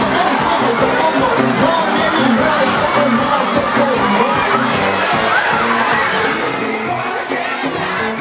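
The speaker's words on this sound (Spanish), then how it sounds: "Un fuerte aplauso para Ignacio." A student day celebration crowd cheers and shouts for Ignacio, a loud sustained wave of excited young voices, whoops and clapping filling the space without a break.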